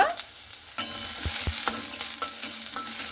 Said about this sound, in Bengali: এরপরে পেঁয়াজটা দিয়ে এভাবে খুব ভালো মতো করে 1 মিনিটের মতো নাড়াচাড়া করে নিতে হবে